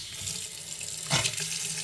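A Moen Lindor kitchen faucet is turned on and water gushes and sputters with bursts of trapped air, one short surge rising over a steady hiss of running water.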